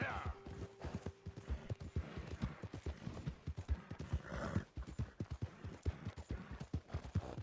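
Horse hooves clip-clopping in the video game Red Dead Redemption 2, a fast steady rhythm of sharp hoof beats at a run, close and continuous, with a brief whinny-like tone near the start.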